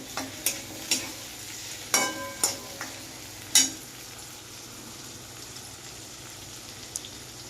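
Onion and tomato fry in a pan while being stirred for pasta. A soft sizzle runs underneath, and a spoon gives a few sharp clinks and scrapes against the pan, most of them early and one near the end.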